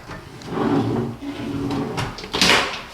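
Wooden wardrobe drawers slide open one after another, with a few knocks and rolling scrapes, and a sharper clack near the end.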